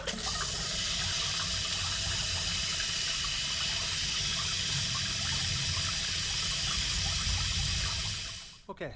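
A garden hose pours water through the radiator of a classic Mini Cooper RSP during a Fernox F3 cleaner flush, a steady loud rushing gush running continuously for several seconds before cutting off at the end.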